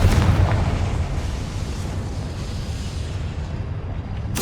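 A Confringo spell explosion in the Hogwarts Legacy video game sets off a loud, close burst that fades into a rumbling decay, ending with a second sharp blast.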